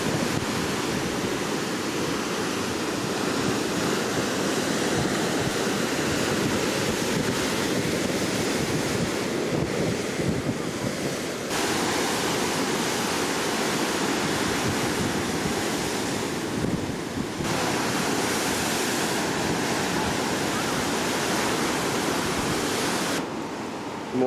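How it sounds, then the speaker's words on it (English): Choppy ocean water churns steadily beneath a Princess cruise ship, a continuous broadband rush of surf with heavy wind buffeting the microphone and no voices over it. "choppy waters."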